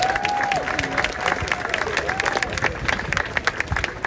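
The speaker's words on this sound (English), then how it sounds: "Give yourself a round of applause." A diverse crowd at a peaceful protest march in Tuscaloosa gives a round of applause, with steady, fairly loud clapping, scattered cheers and a brief whistle over the din.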